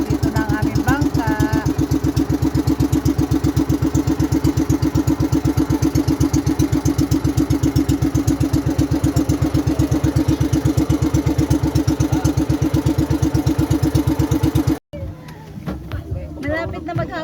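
A boat's engine runs steadily and loud for about fifteen seconds on the way out to an island, a dense, even throb, then cuts off abruptly and leaves quieter background noise.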